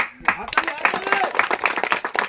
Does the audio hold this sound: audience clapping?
yes